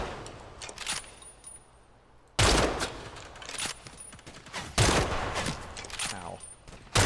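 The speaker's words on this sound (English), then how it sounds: "Damn, this sniper rifle's powerful." Heavy sniper rifle shots in a video game, several loud, close cracks spaced a few seconds apart with quieter clatter and handling noises between them.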